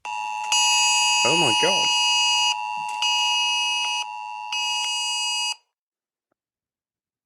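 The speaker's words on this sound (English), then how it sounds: "Severe alert has just come through." Emergency wildfire severe alert tones blare loudly from mobile phones in sequence, a harsh steady buzzing alarm that pauses briefly several times before cutting off, while a person reacts in alarm over it.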